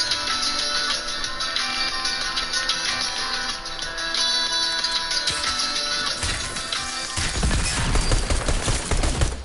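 Shotgun fire in a video game, a rapid crackle of blasts that starts dense and then gives way to sharper, heavier booms near the end, loud and with no talk.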